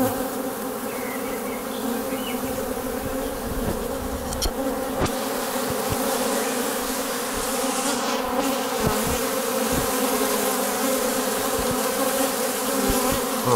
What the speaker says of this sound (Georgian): აი ეს მამალი ფუტკარია.